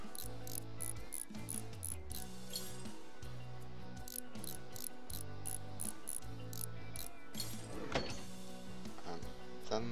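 Tractor wheel hub parts being removed in Farm Mechanic Simulator 2015, a string of repeated ratcheting clicks and mechanical clunks in rhythmic bursts, close and fairly quiet with no talking.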